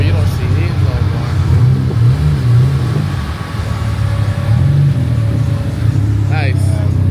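A Dodge SRT-4 idles and revs at a busy car meet. The loud, close engine rumbles with rising and falling revs under constant crowd chatter and talking.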